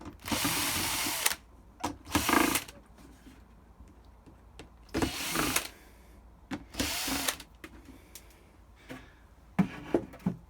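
Drill fitted with a screwdriver bit unscrewing screws from a template on a 25-litre plastic worm bin, giving several short bursts of whirring and ratcheting separated by quiet gaps, close and fairly loud.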